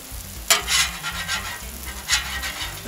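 Smash burger patties sizzle on a hot griddle in a steady, close frying hiss, broken by a few sharp scraping taps from a spatula, with no talking.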